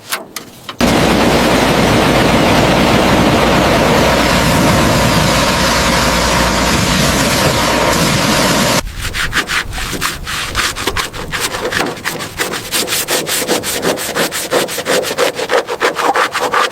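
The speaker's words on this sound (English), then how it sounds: "So satisfying to blast away all this caked on mud and rust." A loud, continuous high-pressure blast roars against caked mud and rust on an old Saurer bus, then shifts to a rougher, crackling spray with rapid pattering as chunks break away, steady and close.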